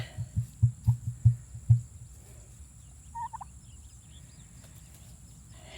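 A turkey hen struts and drums in a yard, giving a quick series of about six deep, thumping pulses close by, then falls quiet amid faint insect chirring.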